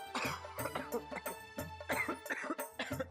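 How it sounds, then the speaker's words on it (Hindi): Repeated harsh coughing in quick bursts, several coughs in a row close to the listener, with voiced strained tones between them. "तेरी खांसी तो अब तक ठीक नहीं हुई"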